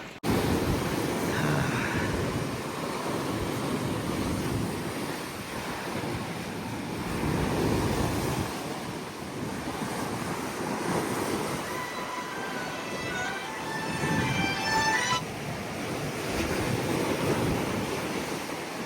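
Sea waves roll around Vivekananda Memorial Rock, a continuous low, rumbling wash that swells and recedes in slow surges roughly every seven seconds, with no voices over it.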